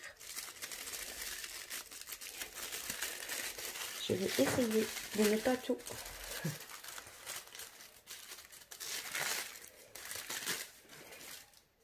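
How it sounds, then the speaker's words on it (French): Tissue paper crinkles and rustles in bursts as a gift is unwrapped close by, with someone talking over much of it. "J'ai un joli papier de soie,"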